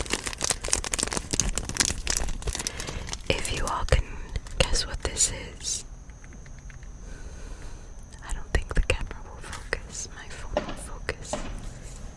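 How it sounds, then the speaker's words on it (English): Crinkling packaging around a celebratory cigar during a relaxing smoking session, dense close crackles and rustles under a soft whispering voice, fading to sparser crinkles. "let's enjoy some crinkles"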